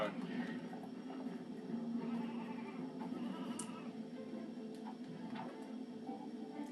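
Sheep bleat in a Ratchet & Clank 2 game level, faint cries layered over steady game music and ambience, with someone talking over them throughout.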